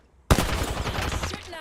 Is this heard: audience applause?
no